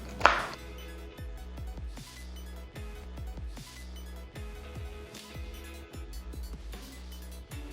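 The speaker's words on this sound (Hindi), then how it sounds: "पालक को भी आपने इसी तरह से इसके डंठल कंबाइन करके पकड़ लेना और बारीक बारीक कटिंग ऐसे स्टार्ट कर लेनी है" A knife chops spinach finely on a cutting board in quick, steady, evenly spaced taps, close and clear with no talking.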